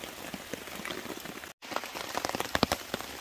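Heavy rain pattering on a tarp over a hammock camp at night during a storm: a dense, close, steady spatter of drops with louder splashes, with a brief drop to silence midway.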